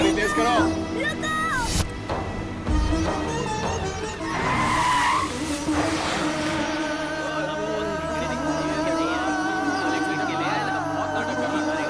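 A car speeds away in a Hindi-language action film scene, tires skidding and squealing loudly amid a roaring engine, with dramatic music and shouted voices layered over it.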